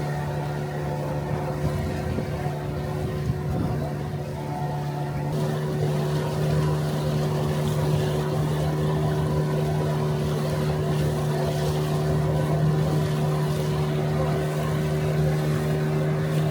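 Steady low drone of a tour boat engine cruising the river along the North Korean border, loud and unbroken, with a slight shift in pitch partway through and no voices.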